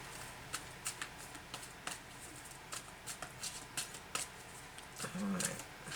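Archangel oracle cards being shuffled by hand, a run of crisp papery riffles and flicks in quick irregular bursts, close and fairly quiet, with a faint low murmur near the end.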